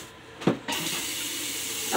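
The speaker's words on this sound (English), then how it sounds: "you turn on the water." A bathroom sink tap is switched on with a brief knock, then water gushes steadily into the basin, close and loud with no voices.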